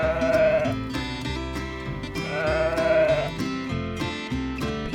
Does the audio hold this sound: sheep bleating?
yes